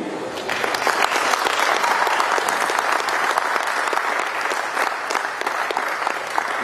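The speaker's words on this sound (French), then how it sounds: "je demande à tout le monde de vous applaudir" A crowd at an agricultural fair applauds in a long, even burst of many hands. The clapping stays dense and steady at moderate loudness throughout.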